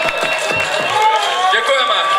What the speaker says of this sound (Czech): Potlesk pro vás pro všechny.